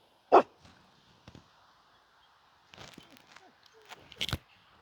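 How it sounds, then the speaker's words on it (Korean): A Jindo dog whines to get going in a riverside city park during light drizzle. Short high whimpers and yips come close by, spread across a few seconds, with quiet gaps between them. "빨리 가자고 낑낑거리고 있습니다."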